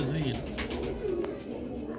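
Grey Sialkoti rooftop pigeons coo in soft, low throaty calls over about two seconds, close by, with faint background voices and noise.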